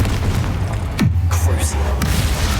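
Spell blasts from the Confringo and Bombarda spells in the game Hogwarts Legacy, a deep booming explosion with a falling swoosh midway, followed by sharper bursts, all loud and close.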